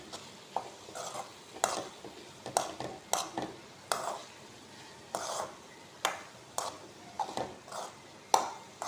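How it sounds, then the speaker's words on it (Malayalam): A spoon scrapes and knocks around a pan while jackfruit thoran with grated coconut is mixed, in irregular strokes roughly every half second, moderately quiet and close, with no voices. "ഇനി നമുക്കെല്ലാം കൂടെ ഒന്ന് മിക്സ് ചെയ്ത് കൊടുക്കാം"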